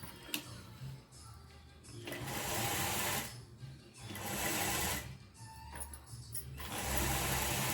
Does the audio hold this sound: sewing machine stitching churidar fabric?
yes